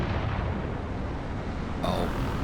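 Aircraft cannon fire in the video game Nuclear Option, heard as a dense, continuous roaring burst that stays loud throughout and shifts in tone near the end, with no talking.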